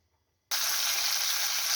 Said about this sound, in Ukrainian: Жаримо капусту на сильному огні і помішуємо її, щоб вона не пригоріла